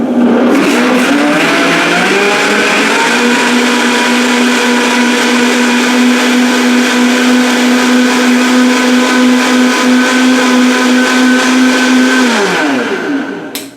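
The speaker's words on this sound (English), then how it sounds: "Pretty much your blender is all nice and clean." A blender whirs with water and a few drops of dish soap inside, running loud and steady for about twelve seconds before winding down at the end.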